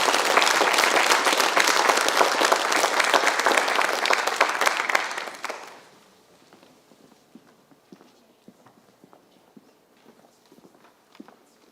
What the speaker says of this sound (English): So a big round of applause, I think, is deserved for all the hours they put in.